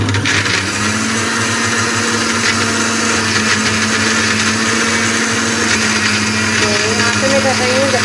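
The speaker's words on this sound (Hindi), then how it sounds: "ये मैंने अदरक लहसुन ग्राइंड कर रही हूँ।" An electric kitchen grinder whirs loudly as it grinds ginger and garlic, a steady motor drone with a sustained tone, running continuously with only slight wavering in pitch toward the end.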